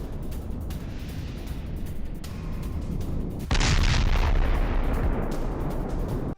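Ukrainian artillery fire on Russian forces in the war in Ukraine: a dense, rumbling barrage of distant booms and bursts, with a louder sustained blast rising midway, and no speech.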